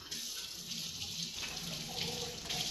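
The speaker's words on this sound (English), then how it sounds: "And so again, I'm going to wash my hands." Water runs steadily from a kitchen tap as hands are washed during chicken preparation, a continuous hissing splash with slight shifts in tone as the hands move under the stream.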